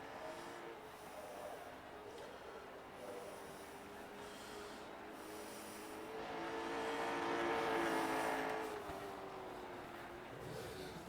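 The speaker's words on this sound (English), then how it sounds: "we watch Hood make some practice laps around the track here" A late model race car runs practice laps at Hickory Speedway, its engine drone holding steady and then swelling louder as it sweeps closer before easing off again, with no talk over it.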